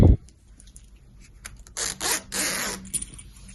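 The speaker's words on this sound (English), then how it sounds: "we're going to just thread our zip on the other side" A zipper is threaded onto the side seam of a fabric weekender bag, giving soft rubbing and scraping bursts of moderate loudness, close up, with several short rasps and a longer scrape toward the end and no talk.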